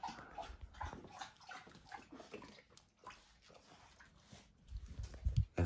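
A pet dog lapping water loudly at home, a rapid wet rhythmic slurping that runs throughout and grows heavier near the end.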